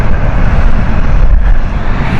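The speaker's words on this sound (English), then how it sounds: "So this is Ryanair Learjet 45 heading out now" A Ryanair Learjet 45 heading out at Stansted Airport, a loud, close, steady broadband engine roar with heavy low rumble that holds throughout, slightly dipping toward the end.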